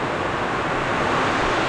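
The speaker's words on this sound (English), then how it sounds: "Now it is literally pouring." Heavy rain pours down in Australia during a hot day, a dense continuous hiss that is loud and unbroken, with no voices.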